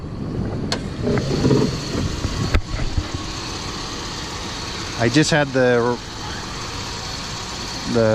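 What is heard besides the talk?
high-mileage engine idling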